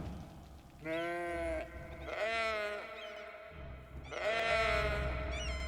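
Several wavering sheep bleats from the video game Cities: Skylines, loud and close, come one after another with short gaps.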